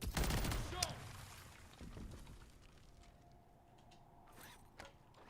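Gunfire in the video game MW3 Zombies: a loud rapid burst of shots opens, then scattered fainter shots and mechanical clicks trail off over game ambience.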